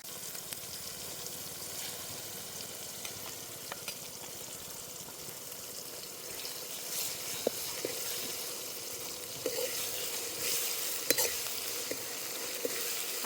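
Tomato pieces with ginger garlic paste fry in oil, making a soft, steady sizzle and bubbling with a few faint stirring taps.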